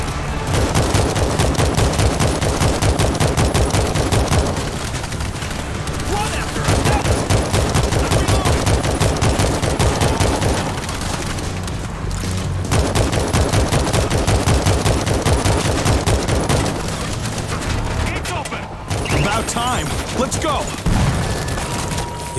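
Sustained automatic gunfire from the zombie shooter World War Z rattles almost nonstop in long bursts with brief pauses, loud and dense, and voices talk over it now and then.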